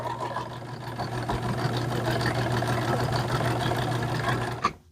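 A domestic sewing machine stitching scrappy fabric strips in one long continuous run, a steady mechanical whirring hum with a rapid needle patter, close and even until it stops abruptly near the end.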